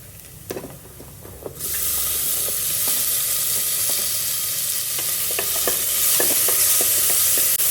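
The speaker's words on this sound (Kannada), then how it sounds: "ಚೆನ್ನಾಗಿ ಹುರಿದಿದೆ ಟೊಮೆಟೊ, ಈರುಳ್ಳಿ." Chopped tomato and onion, with a bay leaf, fry in a pan for vegetable pulao, giving a loud continuous sizzle that begins abruptly after a few light clinks, dotted with occasional stirring taps, close up.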